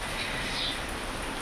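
Steady rain falls in Dehradun as a dense, even hiss of drops that stays constant and close throughout, with no voices.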